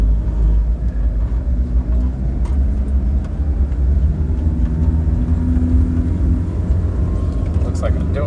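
A 1991 VW Doka Syncro 4x4 three-door truck with a five-speed gearbox driving in first gear, its engine giving a loud, steady low rumble throughout with constant road and cabin noise.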